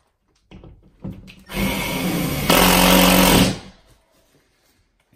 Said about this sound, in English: make sure to tighten up that lag in the middle